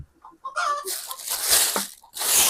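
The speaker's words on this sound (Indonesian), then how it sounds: "Ada suara ayam lagi komplain tuh." A chicken clucks and squawks nearby, a few short calls followed by a bright noisy burst, close and fairly loud outdoors.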